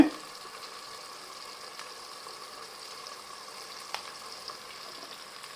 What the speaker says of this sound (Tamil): இதை இப்போ நல்லா வதக்கலாம்